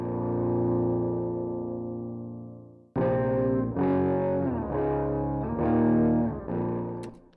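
A sustained electric guitar chord through a clean Studio One Ampire amp simulator rings out and decays, then a strummed passage follows, warm and fairly clean with slight modulation, played alone without speech.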